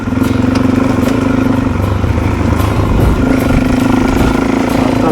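A Suzuki DRZ400 dirt bike revs hard along a rural road, its single-cylinder engine a loud, close, continuous rattling drone with pitch rising and falling as the rider shifts through the throttle.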